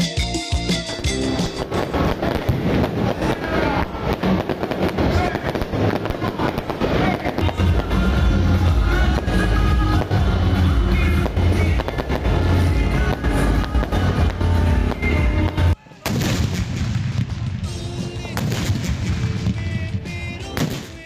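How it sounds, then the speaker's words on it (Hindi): Dense, continuous crackling and booming of midnight Independence Day fireworks in Pakistan, loud and sustained, with rapid overlapping bursts and a brief pause near the end before more pops. "रात 12 बजते ही मुल्क भर में शानदार आतिशबाजी की गई"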